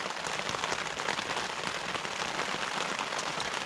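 Steady rain drums on a camping tent during a yellow weather warning, a dense, even hiss of drops that continues without a break, close and fairly loud, with no voices.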